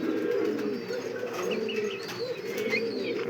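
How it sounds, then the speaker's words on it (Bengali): A Kokajan fancy pigeon coos in a loft among other pigeons, low rolling coos repeating close by over a steady murmur of birds with a few faint chirps. "এই যে কোকাজান ডাকতেছে"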